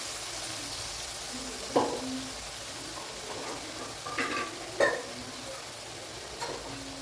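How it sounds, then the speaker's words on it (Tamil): Tomato paste and shallots sautéing in oil for sundakkai kuzhambu, a steady low sizzle broken by a few sharp spatula scrapes and stirs against the pan, no talking. "பாருங்கள், இது நல்லா வதங்கிட்டு இருக்கு"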